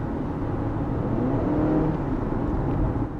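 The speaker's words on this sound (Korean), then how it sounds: "엔진 소리가 쭉 나면서 가속되는 느낌이 있는데" A Honda CR-V 2WD engine drones steadily and swells as it accelerates at around 80 km/h, heard from inside the vehicle with a low rumble throughout.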